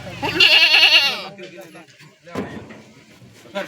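A goat gives a loud, close, wavering bleat at a busy Sunday goat market in Surewala, followed by quieter livestock sounds and a thud while people talk nearby.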